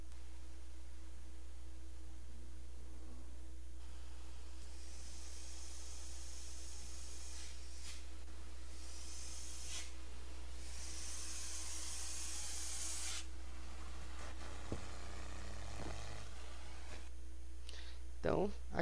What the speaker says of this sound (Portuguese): Então, aqui está o ruído do caminhão.